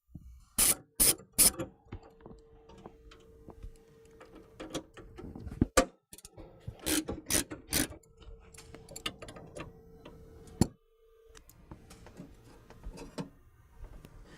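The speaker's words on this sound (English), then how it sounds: "we're going to remove the stock air box mounting plate, which is these 4 bolts here." A wrench ratchets loose the four bolts holding the stock air box mounting plate on a 2009-2014 GM 1500 truck, giving close, intermittent bursts of quick metallic clicking separated by quieter pauses.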